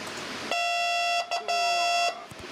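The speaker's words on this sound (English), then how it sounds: "DTMF phone tone." A steady generated DTMF phone keypad tone of stacked pure pitches, loud and continuous for about a second and a half, briefly broken once, then stopping.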